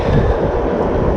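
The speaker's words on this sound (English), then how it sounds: "train's going by." Loud low rumbling of a train passing close by at Crow Butte Park, a continuous roar with some wind buffeting on the microphone.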